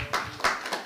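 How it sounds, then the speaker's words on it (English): A few scattered claps, three quick bursts spaced apart, faint and brief in a room. "Give applause to her."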